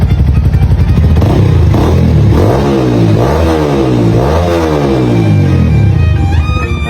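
A Honda motorcycle engine revs repeatedly, rising and falling in pitch over a steady loud idle, close by with no voices.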